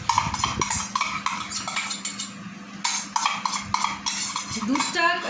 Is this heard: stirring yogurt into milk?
yes